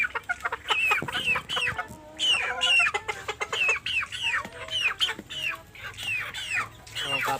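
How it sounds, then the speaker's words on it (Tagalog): Farm chickens on a goat farm clucking close by in repeated bursts of sharp calls, loud and busy with brief pauses between. "Yan yung mga manok natin ha."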